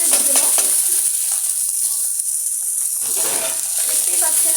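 Pre-boiled noodles dropped into a hot frying pan and stirred, giving a loud continuous sizzle with scraping and stirring sounds; no speech is heard.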